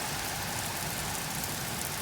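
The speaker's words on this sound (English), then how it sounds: "It's raining buckets of water." Heavy rain pours during a storm in West Mifflin near Pittsburgh, Pennsylvania, a dense, unbroken roaring hiss that stays loud and steady throughout.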